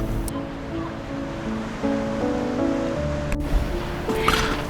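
Ocean surf breaking along the rugged, rocky Cape Schanck coastline near Melbourne, a steady broadband wash of waves with a stronger surge near the end, heard alone without voices.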